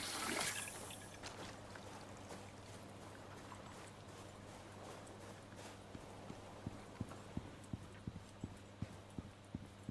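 Faint, rhythmic clip-clop of horse hooves in the video game Icarus comes in partway through, an even trotting beat over a low background hum and soft wash of ambience.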